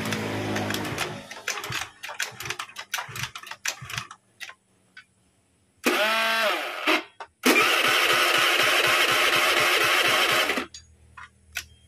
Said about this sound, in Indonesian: Oke, semua sudah terpasang, kita coba nyalakan.